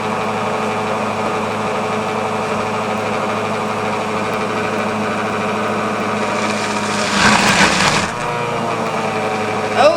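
An Ankarsrum blender attachment runs while blending hummus, a steady close mechanical hum and whir with a louder grinding surge near the end, carrying on without speech.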